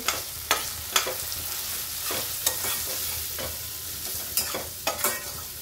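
Spices and tomato are sautéed together in a pan, with a constant sizzle broken by a string of sharp spatula strokes against the metal, close and fairly loud.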